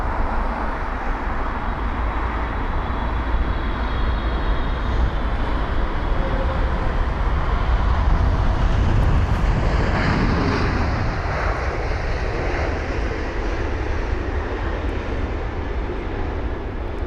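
Jet aircraft arriving at London Heathrow airport, a loud, sustained engine roar that swells and then slowly fades as the plane passes and lands, with no voices.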